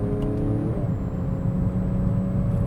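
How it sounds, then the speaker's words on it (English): A 2009 Porsche 911 Carrera S with PDK gearbox makes a steady, fairly loud engine drone from inside the car, and a step in engine pitch marks a rev-matched downshift partway through. "You have downshift there, the rev matches are perfect."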